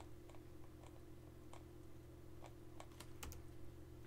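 Quiet, scattered keystrokes on a computer keyboard click at an irregular pace while router configuration commands are entered, faint and close against a low background hum.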